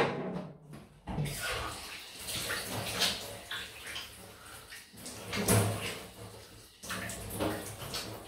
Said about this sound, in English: Quick cold rinse.